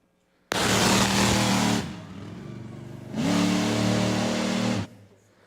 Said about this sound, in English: That was the first time I have ever backed this truck out of the garage